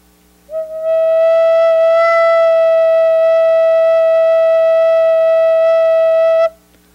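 A recorder sounds one steady, clear, pure note with all holes covered except two, held alone for about six seconds before stopping abruptly.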